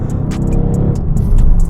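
A Mercedes-AMG GT R engine accelerates hard in a loud, close, continuous roar with a rising low rumble. Sharp crackles sound throughout, and no one speaks.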